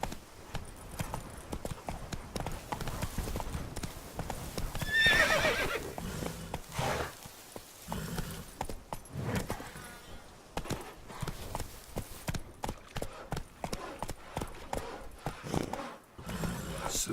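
A horse gallops in The Witcher 3: Blood and Wine: steady, rapid hoofbeats carry through the whole stretch, with a brief whinny near the start.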